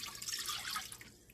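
Two cups of water run steadily into a pan for sugar syrup for about a second, a bright splashing pour with a faint dripping edge, close and fairly quiet.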